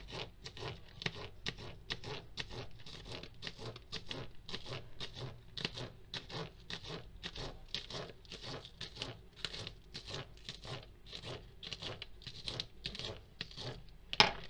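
A knife chops spring onion finely on a chopping board: a steady, quick run of light taps, close and fairly soft, continuing without pause for the whole stretch.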